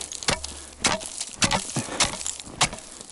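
A chisel strikes ice again and again while an ice-fishing hole is cut in -50 degree cold, each blow a sharp crunching chop with a brittle crack, coming in an uneven rhythm at close range.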